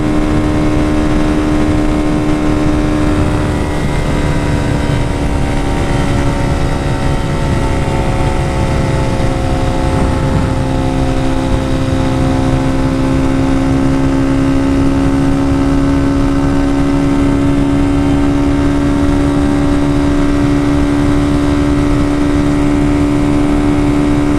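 Motorcycle engine with new 13/42 gearing held at high revs around 4,400 RPM, a loud, steady, close drone with a sustained tone and no pauses.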